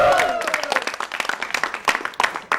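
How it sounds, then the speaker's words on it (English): A live studio audience breaks into a burst of applause, brisk uneven clapping that is loud at first and thins into scattered claps over a couple of seconds, with a voice briefly audible at the start. "give a big round of applause to Danish Ali."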